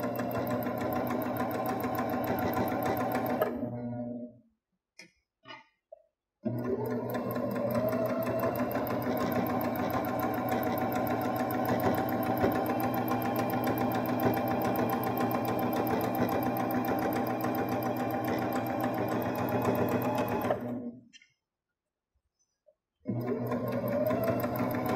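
A Baby Lock Jazz II sewing machine stitches a pressed hem, its needle running in a fast, steady mechanical whir that stops twice for brief pauses before starting again, close and clear with no talking.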